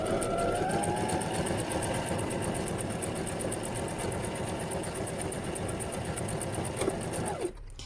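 A Brother LX27NT sewing machine runs steadily while stitching a one-step buttonhole, a loud continuous mechanical whir with rapid even needle strokes, stopping abruptly near the end.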